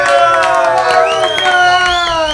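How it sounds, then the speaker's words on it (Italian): An audience at a restaurant bachelor-party evening cheers and whoops loudly over steady clapping, with a continuous dense crowd roar and a few voices rising above it. "Facciamo un applauso a Luca"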